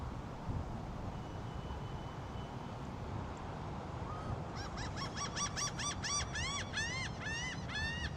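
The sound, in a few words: angry bird calling during a tropical storm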